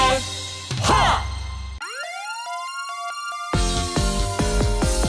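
A police car siren sounds in a children's song about working vehicles: musical passages frame a clear, rising and sustained wailing siren tone that stands alone in the middle before the music returns.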